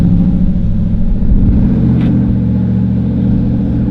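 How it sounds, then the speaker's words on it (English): A throaty Hemi V8 engine in a Jeep SRT8 with a loud, modified exhaust idles and rumbles loudly up close, its deep exhaust burbling steadily with a slight rev. "it sounds like a Hemi with no exhaust on it"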